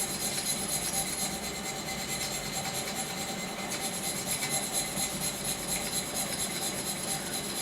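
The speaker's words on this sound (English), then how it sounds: "a case where a very good, very fine file works" A very fine file works bronze held in a vise, giving a steady, continuous rasping scrape that runs evenly through the whole stretch at close range with no talk.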